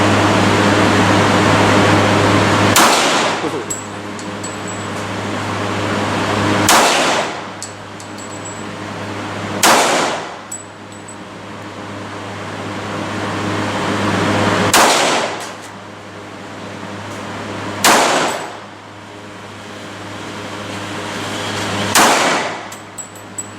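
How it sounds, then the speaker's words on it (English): Springfield XDM .45 pistol firing six loud, sharp shots spaced a few seconds apart, each crack ringing briefly over a steady low hum of outdoor range ambience. "let's go look at the recoil on the Springfield XDM"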